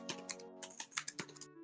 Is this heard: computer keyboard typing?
yes